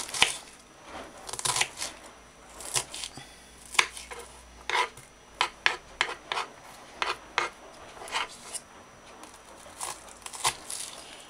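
A knife cuts an onion into small pieces on a board, giving a quick, uneven series of crisp chops and soft scraping strokes at close range, with no speech.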